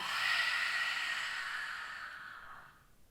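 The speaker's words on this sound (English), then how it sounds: "take a big inhalation. Open your mouth. Exhale." A single loud open-mouthed exhalation during a seated yoga breathing exercise, a long breathy rush that starts strong and slowly fades over about three seconds, heard alone.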